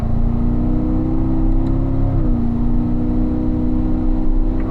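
A car pulls hard on a racing circuit at a driving school, its mid-pitched engine droning loud and steady, with a brief dip in pitch around the shift up to fourth gear before it pulls on again.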